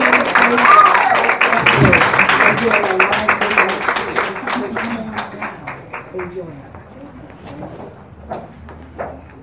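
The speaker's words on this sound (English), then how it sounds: "Let's give Minister Trey one big hand of applause" A church audience applauds Minister Trey during a worship music concert, with dense clapping that starts loud and full, then thins into scattered claps and fades over several seconds.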